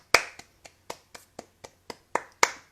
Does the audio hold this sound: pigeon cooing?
no